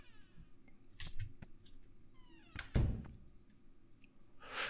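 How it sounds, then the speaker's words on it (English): Thumping on the floor indoors at midnight, a few dull knocks in a quiet room with one heavy thud in the middle, alongside faint small creaks. "I thought I heard a thumping on the floor."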